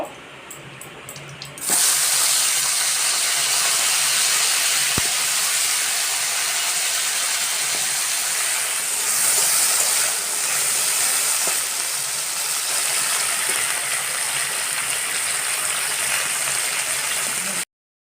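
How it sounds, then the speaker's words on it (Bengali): Cauliflower florets frying in hot oil in a home kitchen, a loud, steady sizzling hiss that starts suddenly as the pieces go in and crackles continuously for the rest of the time. "আবার ফুলকপিগুলো আমি ভেজে নেব"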